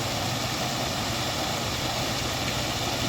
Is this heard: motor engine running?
yes